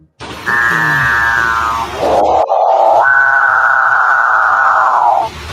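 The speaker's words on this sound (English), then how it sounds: "Capuchin bird." A capuchin bird gives a long, drawn-out mooing call, a low groan rising into two sustained droning tones, loud and near.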